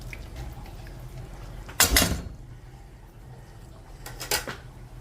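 A metal pressure cooker pot handled in a kitchen gives two short clanks a couple of seconds apart, close and fairly loud over a quiet room.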